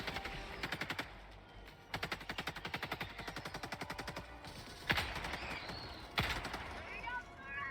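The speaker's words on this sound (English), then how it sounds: "Ah, Gatling gun. You're satisfying." Rapid Gatling gun fire in the survival-horror game Crow Country, sounding as dense, even bursts of shots with a short pause between them, followed by a couple of heavier single impacts.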